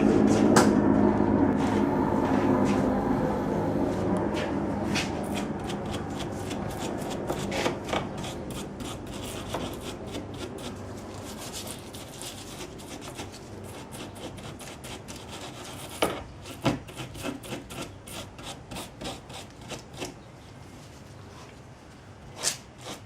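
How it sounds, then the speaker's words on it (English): A wire brush scrubs a badly corroded wiper arm stud on a Ford Escape rear wiper, making a steady, close, gritty scraping with scattered sharp clicks and taps and no talking. "So I'm gonna clean that up with a wire brush."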